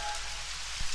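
Steady rain falls and patters on surfaces as a dense, loud hiss with no speech, ending in a brief thump.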